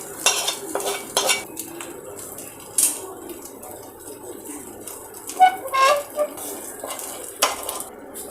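Egg mutton curry being scooped and transferred into a pan with a metal utensil: a series of sharp clinks and scrapes come in irregular bursts over a faint background, close and fairly clear.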